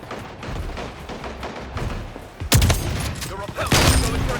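Gunfire in a first-person shooter video game rattles in quick bursts, getting louder and denser halfway through, mixed with game sound effects and a person talking over it.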